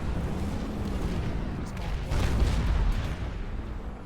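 Heavy gunfire and booming blasts in a Planetside 2 outfit wars match, forming a dense continuous rumble of distant shots and explosions that swells midway.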